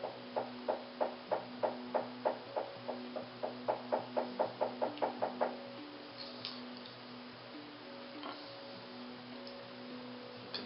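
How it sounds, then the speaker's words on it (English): Rapid, evenly spaced knocks on a wall, about twenty raps in five seconds, then stop, leaving a low steady hum and a couple of faint taps. "The knocking on the wall."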